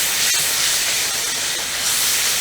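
Masala with kasuri methi roasts in a pan, a loud, steady, close hiss of sizzling oil and steam with a faint click near the start. No one speaks.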